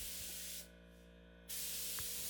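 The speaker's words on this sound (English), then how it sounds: "it would be so much easier for me to spray the top coat rather than brush it on" Gator Hide top coat is sprayed from a sprayer onto a 1970s drum table in two loud, close hissing bursts separated by a short pause.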